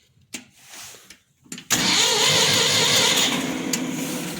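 A 3000 tractor engine cranks with a few irregular knocks and clicks, then catches and settles into a loud, steady, rumbling idle that keeps running.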